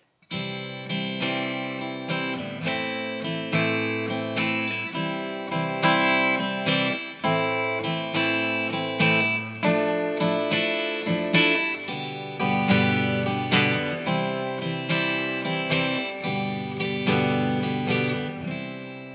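Steady rhythmic strumming of a Martin acoustic guitar with the fingers, chords ringing out in a repeating pattern, close and moderately loud with no voices.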